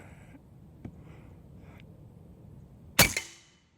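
A single sharp, loud shot from an AEA HP Assassin SS Plus .30 semi-auto PCP air rifle cracks out near the end with a brief decaying tail, following quiet handling and a couple of faint clicks.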